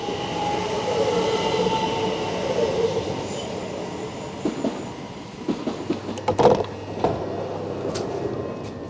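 A passenger train rolls along toward Edenbridge with a steady interior rumble and wheel noise, then a cluster of louder clatters and squeals near the end, with no talking.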